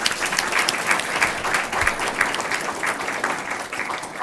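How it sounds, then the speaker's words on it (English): Audience at a school district board meeting applauds, a steady, dense round of clapping that runs at even loudness throughout with no talking. "Let's give them another round of applause."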